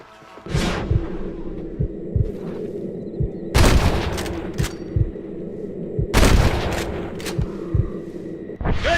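Gunfire in the Western video game Red Dead Redemption as snipers are targeted, with two loud broadband shot bursts and scattered sharp cracks over a low rumbling game backdrop, no talk.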